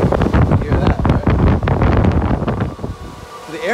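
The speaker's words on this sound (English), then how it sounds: "very powerful air movement called the air pumps" Powerful air pumps move outside air past ASIC crypto miners in a mining room, a loud steady rushing roar like strong wind buffeting the microphone, dropping briefly near the end before surging back.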